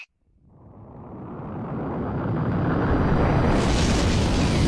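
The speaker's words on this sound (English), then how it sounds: "our entire universe was born in the Big Bang" A deep explosion effect for the Big Bang starts from silence after a brief tone, then builds into a loud, roaring, ever-widening rumble that swells over several seconds and holds at full strength.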